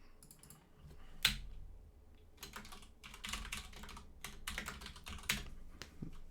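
Close, quiet clatter of a computer keyboard as a save game name is typed, irregular runs of keystrokes with short pauses and a few sharper clicks.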